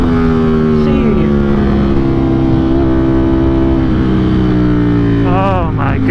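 A Ducati Streetfighter V4S motorcycle fitted with an Arrow exhaust roars loudly and close by while riding, holding a dense, throaty engine drone with rising and falling revs throughout.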